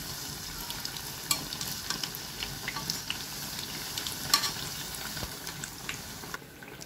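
Bajji fritters made with karpuravalli (omavalli) leaves frying in hot oil, giving a steady close sizzle with light bubbling and a few sharper crackles and pops, no voices.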